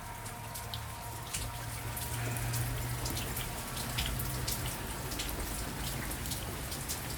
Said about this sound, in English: Tis a very rainy day.